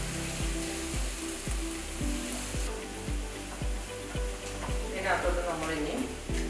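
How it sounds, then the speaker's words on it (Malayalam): Onion, ginger, garlic, cloves, cardamom, cinnamon and curry leaves sauté in hot oil with a steady close sizzle, a rhythmic scrape of stirring repeating throughout, and a voice talking over it. "ഈ സവാള, ഇഞ്ചി, വെളുത്തുള്ളി, ഗ്രാമ്പു, ഏലക്ക, കറുവാപ്പട്ട, കരിയാപ്പില ഇതെല്ലാം കൂടെ എണ്ണയ്ക്കകത്തിട്ട് നല്ലപോലെ ഒന്ന് വഴറ്റി"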